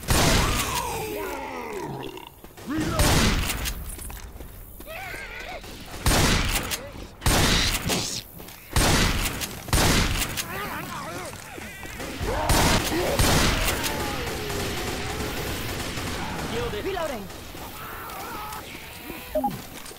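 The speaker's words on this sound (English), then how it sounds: "Taking the shotgun. Reload." Shotgun blasts ring out in the zombie shooter Left 4 Dead 2 during a rainy level, loud booming shots in bursts amid game noise, growling infected and voices talking over the action.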